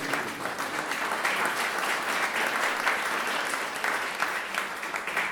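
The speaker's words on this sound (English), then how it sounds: "A huge round of applause for Honor." An audience seated in Honor Fraser Gallery bursts into a sustained round of applause for the gallery, many hands clapping in a dense, even wash that holds steady throughout.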